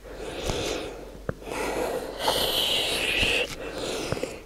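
Forceful breaths during a bodyweight muscle-strengthening exercise: several close, breathy exhales and sniffing inhales in uneven bursts, with no speech.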